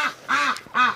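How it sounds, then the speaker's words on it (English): Ducks quack nearby in cold winter weather, three short nasal calls in quick succession with no other sound. "Hello, ducks!"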